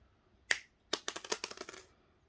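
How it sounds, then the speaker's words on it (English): Wire cutters snipping jewelry wire for resin and wire-wrapping work: one sharp click, then a quick burst of about eight small crisp snips close to the microphone in a quiet room. "we are just going to snip those wires"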